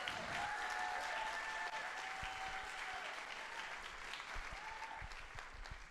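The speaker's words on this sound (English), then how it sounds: "Give the Lord a clap for Pastor Stefan." Church congregation clapping at a Sunday service, a steady wash of many hands filling the room, with a faint sustained tone beneath and no speech.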